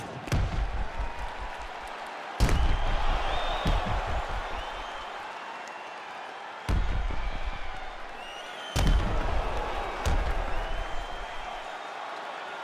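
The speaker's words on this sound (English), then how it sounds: "the crowd voicing its appreciation after that crazy sequence in the previous round" Crowd noise inside a UFC 5 arena, a broad roar that swells in several bursts after a round, with sharp impacts cutting in and a steady rumbling murmur between them.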